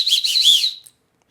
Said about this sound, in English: I'm going to blow the whistle on that.